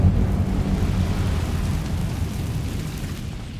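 Incendio fire spell cast in the video game Hogwarts Legacy, a loud, continuous roaring rumble of flame that holds steady throughout with a slight fade toward the end, no voices present.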